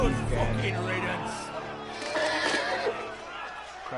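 A horse neighs loudly in a Game of Thrones video game, a long whinny over a crowd murmur, with players talking over the scene.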